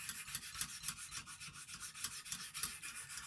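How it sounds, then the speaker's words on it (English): Lansky sharpener stone rasping along a steel knife blade of CTS 204P steel, a close, fast, even back-and-forth scraping with no voices. "You're scraping metal away."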